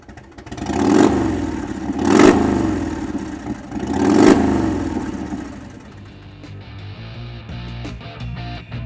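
A 1991 Harley-Davidson FLSTC Heritage Softail Classic motorcycle engine revs three times in loud swelling bursts, then settles into a lower, lumpy idle rumble close by.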